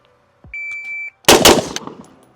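Rifle gunshots from an AK47 or AR15 at a shooting range, a sharp loud blast with rapid follow-up reports and echo, preceded by a steady electronic shot-timer beep.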